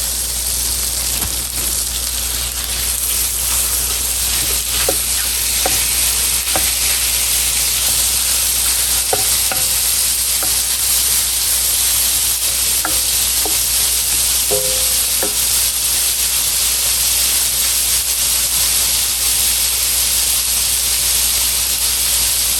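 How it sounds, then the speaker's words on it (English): Beef fries in butter in a pan with a strong, unbroken hissing sizzle close by, and a few faint clicks and stirring touches come in now and then. "I'm going to use it to fry up the meat."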